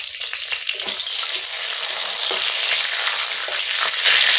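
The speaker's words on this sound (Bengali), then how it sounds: "আর দেবো গরম মশলা দেবো ছোটো এলাচ ডালচিনি আর দুই তিনটে লং দিয়ে দেবো" Whole cardamom, cinnamon sticks and cloves fry in hot oil as a tempering for a Bengali mushroom curry, giving a bright, steady close sizzle broken by soft scrapes of stirring, with no talk.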